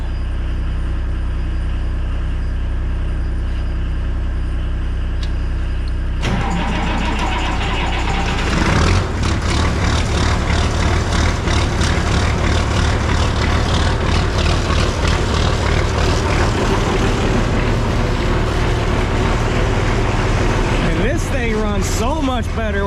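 Diesel engine in a shed started with glow plugs, rough idle swelling into a loud, steady chugging run with rattling mechanical noise close by, after a quieter humming lead-in.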